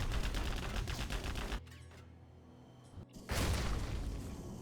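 In a real-time strategy battle on the Farmlands of the Fallen map, a tank detonation goes off amid dense gunfire: loud crackling bursts, a brief lull, then a renewed heavy rumbling blast that sustains to the end.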